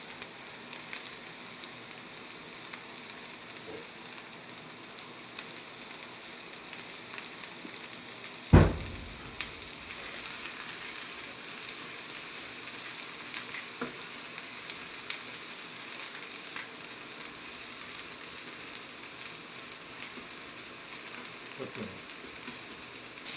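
Coconut oil sizzling in a pan on a Kerala home stove, a steady close hiss held throughout, with one sharp clatter partway through and faint stirring sounds.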